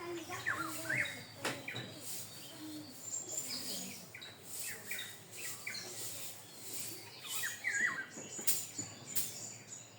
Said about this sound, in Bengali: বাড়িতে আসলে কত রকমের পাখির ডাক শোনা যায়। অতিথি পাখির ডাক শুনলাম,